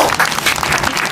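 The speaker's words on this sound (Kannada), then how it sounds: "ಕ್ಲಾಪ್ಸ್ ಅನ್ನು ಹಾಕಿರಿ" Clapping bursts loud and dense for a moment in a home pani puri eating challenge, a brief wash of quick claps close by.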